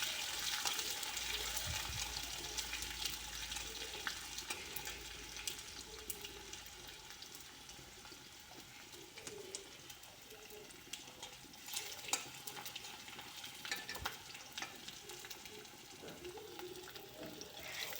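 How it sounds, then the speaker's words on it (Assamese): Sliced onions fry in refined oil in a kadai with whole cloves, cardamom and cinnamon, giving a faint, steady sizzle with occasional soft crackles and stirring scrapes. "এইখিনি পিঁয়াজখিনি অলপ ৰঙচুৱা হোৱালৈ ভাজি ল'ম।"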